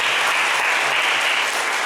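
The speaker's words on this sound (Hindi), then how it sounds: "क्यों ना हम उनका जोरदार ताली से स्वागत करें" A church congregation claps to welcome a visitor during a Sunday evening service, with dense, steady applause that fills the room evenly from start to finish and has no speech over it.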